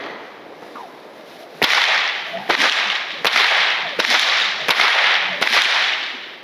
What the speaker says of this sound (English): you have a way to keep flicking the whip and keep cracking